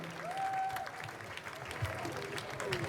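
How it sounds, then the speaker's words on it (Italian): An outdoor audience at a wind band concert in a Jesolo piazza applauds a singer, a steady wash of clapping from the crowd with a few faint voices mixed in. "Un applauso al nostro Stefano e alla sua bellissima voce."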